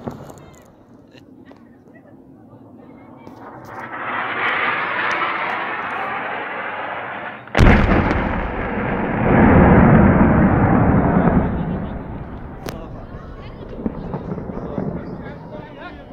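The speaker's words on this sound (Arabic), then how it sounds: "طائرات الاحتلال الروسي تستهدف المكان الذي نحن" Russian airstrikes in northern Syria. A jet roar builds, then a sudden loud blast follows with a long rumbling roll, and fainter cracks come later. Voices shout throughout.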